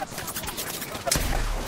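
Gunfire in the Apex Legends battle royale game, a rapid series of sharp shots, the last few louder bursts landing near the end, with a player's voice exclaiming alongside.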